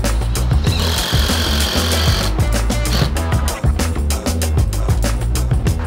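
A power drill bores pilot holes in vinyl siding on a house wall before stainless steel screws go in for floodlights, a loud, steady motor whine with rapid rhythmic chattering running throughout, close up and with no talk.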